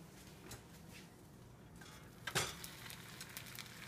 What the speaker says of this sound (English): you can already hear it starting to sizzle up, which means the pan is at temperature